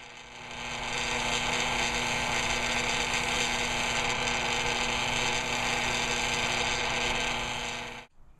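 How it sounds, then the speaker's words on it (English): Steady, loud whirring drone of a spinning wood lathe with a constant hum during final sanding of a wooden pen, running continuously for several seconds before stopping abruptly. "It is now time to start doing the final sanding, which will create the high polish of the wood."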